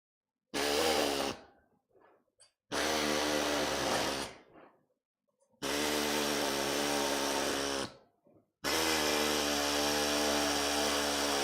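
An air saw cutting parts in a workshop, running in four long loud bursts of roughly one to three seconds each, with quiet gaps between and a steady buzzing whine while cutting.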